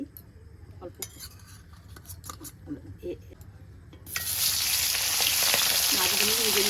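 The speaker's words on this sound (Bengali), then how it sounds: "ইলিশ মাছ হালকা করে ভাজবো।" Hilsa fish frying in hot oil in a pan, a loud steady sizzle that starts abruptly partway through and holds to the end, after a quieter stretch of clinks and handling sounds.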